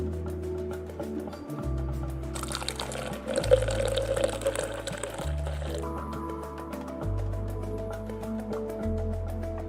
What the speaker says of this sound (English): That's some good pouring.